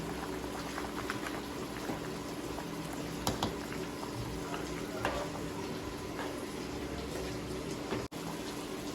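A pot of fish curry base with drumstick pods and ground masala simmers at a rolling boil. It makes a soft, steady bubbling and gurgling, fairly quiet and continuous, with a brief knock near the end.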